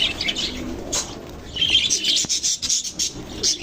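Pet parakeets and lovebirds chirp in short, bright bursts at close range, mixed with soft wing flutters and rustling.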